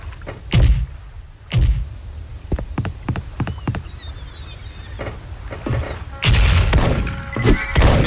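In the Soldier Front shooting game, gunfire crackles in short, uneven bursts, punctuated by a few heavy, booming grenade blasts that stand out loudly at irregular intervals.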